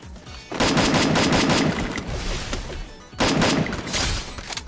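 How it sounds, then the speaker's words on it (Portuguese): Rapid bursts of automatic gunfire in a shooting video game, two loud sustained volleys separated by a short pause, close and dominant. "Um tiro."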